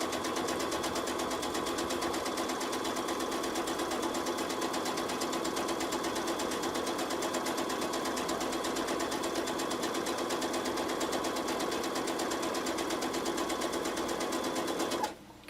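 A sewing machine stitches fabric for machine applique in a steady, even whirring run that lasts throughout and halts abruptly at the very end.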